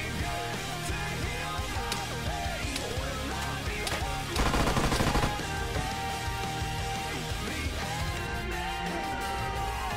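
Rapid automatic gunfire and sharp single shots in the military shooter Arma 3, bursts scattered across the scene with a heavier volley midway, over a steady background of game ambience.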